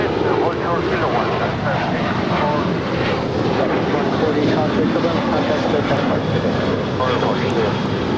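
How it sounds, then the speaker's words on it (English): A Southwest Boeing 737-700 jet departs from the south side of LAX, its engines producing a broad, steady roar that holds at a constant level throughout, partly masked by speech. "This is indeed a Southwest 737-700 departing here on the south side to Las Vegas."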